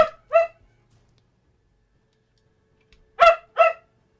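Another dog barks from somewhere nearby: two sharp barks, a pause of nearly three seconds, then two more, clear and moderately loud against near silence.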